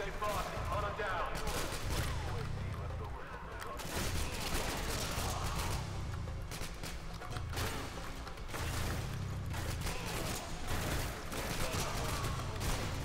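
Sustained gunfire from a Call of Duty: Modern Warfare 2 firefight, dense overlapping bursts and shots continuing throughout with low rumbling impacts, loud and constant under intermittent talk.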